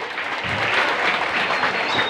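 A school audience at a junior high language-month event breaks into dense, sustained applause, many hands clapping together in a steady wash from a crowd.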